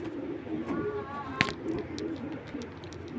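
A large racing pigeon from the Netherlands coos softly and close by over faint background hiss, with one brief sharp click partway through.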